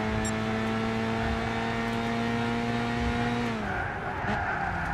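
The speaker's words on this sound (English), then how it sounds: "You can hear the tyre squeal a lot more deafening in your ears when you're in this view." Tyres on a Renault Clio squeal steadily in the Gran Turismo 6 racing game, heard from the interior view under a sustained engine drone, with the pitch dropping near the end as the car slows.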